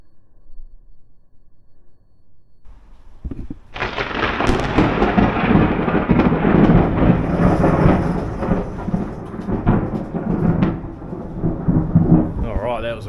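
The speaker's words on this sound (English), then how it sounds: "This is probably the closest thunderstorm in 10-15 years, I reckon." A close thunderstorm breaks with loud thunder: after a few quiet seconds a heavy crash erupts into a long, rolling, rumbling roar that stays loud and near, with rain mixed in.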